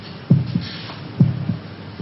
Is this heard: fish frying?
no